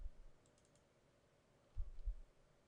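A computer keyboard is being typed on to enter an install folder name. A few faint, quiet key clicks come in a short cluster near the end of a mostly silent stretch.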